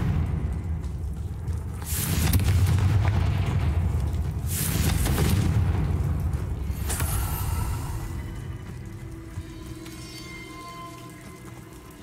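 A Confringo fire-blast spell goes off in Hogwarts Legacy, with a few loud whooshing bursts and a crackling impact over a steady rumbling game ambience and no talk.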